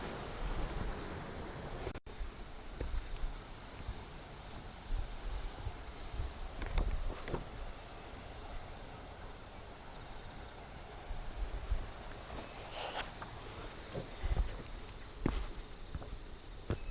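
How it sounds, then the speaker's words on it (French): Wind gusting through small rock cavities on a volcanic trail in Tongariro, New Zealand, a steady hollow rushing roar with buffeting against the microphone, swelling in a few stronger gusts, no talking. "Et en fait là on entend le bruit du vent à travers."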